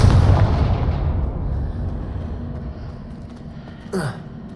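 A fiery Confringo spell blast in Hogwarts Legacy, a deep booming burst that fades over a few seconds, followed by a short whooshing flare.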